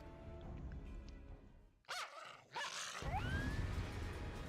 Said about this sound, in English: Why do these sound like dogs?